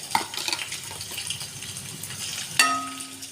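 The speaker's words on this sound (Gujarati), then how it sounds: "મરચાંને તેલમાં સારી રીતના સાતરી લઈશું" Green chilies fry in hot oil in a kadai with a light, crackling sizzle, broken near the end by a sharp metallic clang of a utensil that rings briefly.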